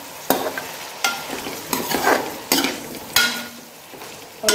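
Ginger garlic paste sizzles in a pan for a chicken malai handi while a spoon stirs it in repeated scraping strokes. The frying hiss rises and falls with each stroke, close and fairly loud, with no voices.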